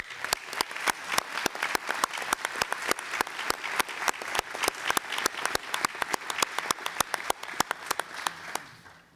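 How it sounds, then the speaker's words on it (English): Sustained applause from a conference audience gathered to review a draft report, the claps dense and steady throughout and tapering slightly at the very end, with no talking. "So I would like to ask for a round of applause for the work you did"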